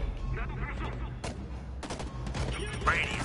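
Gunfire from the video game Homefront: The Revolution cracks in short bursts and scattered shots at a moderate distance, mixed with a voice talking over it.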